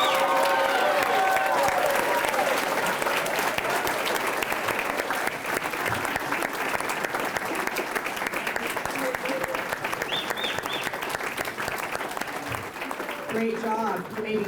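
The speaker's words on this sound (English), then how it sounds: "Let's clap it up for the top 50." Banquet crowd at an annual Elks awards dinner applauding the top 50 honorees, loud continuous clapping with cheers and murmured voices mixed in, sustained throughout.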